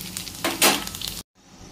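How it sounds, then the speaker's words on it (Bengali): Whole cumin, black pepper, bay leaf, cardamom and dried red chillies crackle in hot mustard oil in a wok, a loud close sizzle that swells midway and then cuts off abruptly. "এখানে গোটা জিরে, গোলমরিচ, তেজপাতা, দুটো এলাচ আর শুকনো লঙ্কা ফোড়ন দিয়ে দিলাম"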